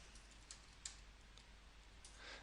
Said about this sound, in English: I'm going to type it from the keyboard